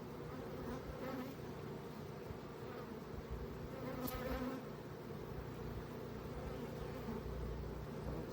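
A steady, dense buzz of many honeybees close by, continuous throughout with no talking.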